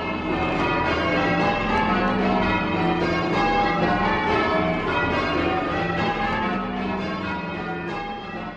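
Church bells ring changes in the Stedman method, a dense, continuous cascade of overlapping metallic strikes from a tower, loud and steady with no pause between peals.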